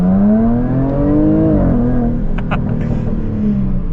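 A Jaguar F-Type P380 R-Dynamic with 380 horsepower accelerates hard, its engine note climbing loudly and steadily, then shifting, with a few sharp exhaust pops crackling out the back partway through.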